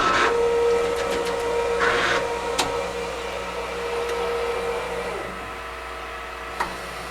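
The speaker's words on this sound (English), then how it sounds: "We'll press OK at this time to print directly on the platen." An Epson F2000 garment printer prints directly onto its platen, a moderate whirring carriage hum with rising and falling motor tones, a few sharp clicks and a faint tick near the end, no voices.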